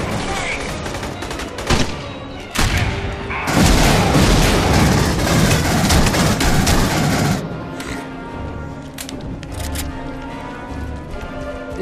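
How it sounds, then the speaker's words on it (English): Grenade explosions in the sci-fi shooter Aliens: Colonial Marines, a loud burst of blasts and gunfire-like crackle that builds into a sustained roaring barrage, then drops to quieter rumbling game noise. "These grenades really don't have that much of a blast radius."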